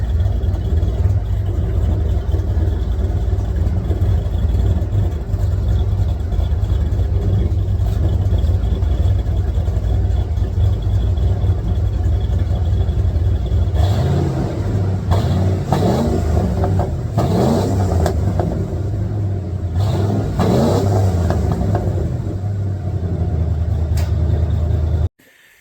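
A Ford F-150 truck engine revs in a steady loud rumble that rises and swells into sharper revving bursts near the end, with no talking over it.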